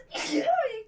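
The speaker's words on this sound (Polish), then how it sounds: "Na zdrowie tak się kicha." A single short, breathy sneeze sounding close, with a rising and falling voiced tone, followed by a faint trailing breath.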